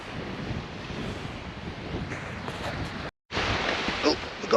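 Ocean waves wash onto a sandy Scottish beach, a steady broadband rush of surf mixed with wind buffeting the microphone, briefly cut off midway before resuming.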